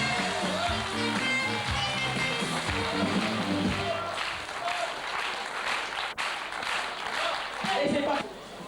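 Audience applause at the 1998 Eurofestival in France, steady dense clapping throughout with music and crowd voices mixed in, loud and sustained.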